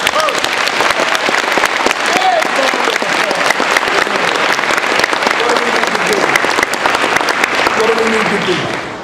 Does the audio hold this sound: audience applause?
yes